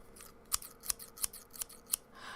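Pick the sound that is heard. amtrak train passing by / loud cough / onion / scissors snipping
scissors snipping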